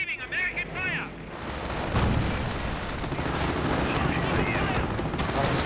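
Dense gunfire and artillery blasts from a Company of Heroes 1 battle between Wehrmacht and US forces, a steady loud barrage of shots and booms with brief voice-like radio calls early on.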